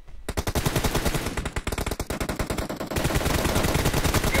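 Rapid automatic gunfire in the PUBG Mobile battle royale game, a dense loud stream of shots with a brief pause early on and continuing bursts throughout, no talking over it.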